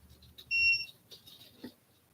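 A short electronic timer beep, two steady tones sounding together briefly and cleanly, followed by faint indistinct rustling in a quiet room.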